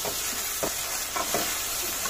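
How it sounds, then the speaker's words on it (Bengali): Spices with bay leaf, cardamom, cinnamon, cashew paste and nutmeg-mace paste stirred in a pan for chicken pulao, giving a steady soft sizzle with a few short scraping strokes, close and alone. "এখন এগুলোকে নেড়ে চেড়ে"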